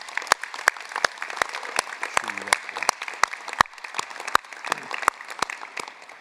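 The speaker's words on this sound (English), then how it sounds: "Let's thank them for their efforts with a round of well-deserved applause." Sparse, distinct clapping with sharp individual hand claps ringing out in a large hall at a university art and design commencement, faint murmuring beneath, sustained for several seconds.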